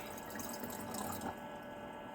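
Filtered water trickles into a glass mason jar, a soft continuous pouring and splashing sound that swells briefly midway and then settles to a steady gentle flow.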